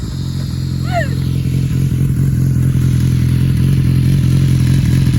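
A loud BMW S1000XR motorcycle engine with heavy modifications drones steadily nearby with a deep, even throb; a short high chirp cuts in briefly near the start.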